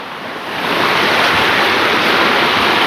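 Steady, loud rushing water at a mountain lake, a broad unbroken roar that swells in over the first half second and then holds constant, close and alone with no voices.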